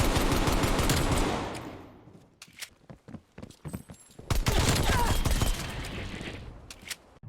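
Rapid automatic gunfire from a video game played on a custom controller with the fire button held, loud sustained bursts broken by a short stretch of scattered single shots before the continuous firing resumes.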